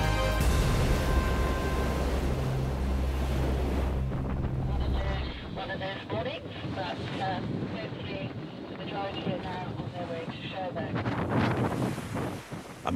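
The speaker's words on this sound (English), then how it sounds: "The wind and waves of the Solent, a brutal reminder of the challenge the Rolex Fastnet Race presents from the start" Strong wind roars across the microphone over churning waves on the Solent as boats set out in the Rolex Fastnet Race, with voices faintly audible amid the gusts.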